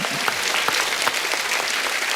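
A television comedy show studio audience applauds, with dense overlapping handclaps that stay steady and loud throughout the short burst.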